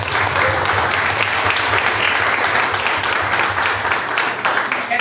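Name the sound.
congregation applause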